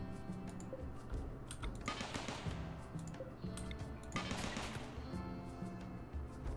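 Automated turrets in RimWorld firing on a squirrel: a rapid, steady crackle of small shots over a low game music bed, with two louder, denser bursts of fire.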